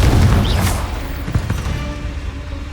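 A Confringo fire spell explodes in Hogwarts Legacy, a loud deep boom at the start that fades into a rumbling, crackling tail over a few seconds.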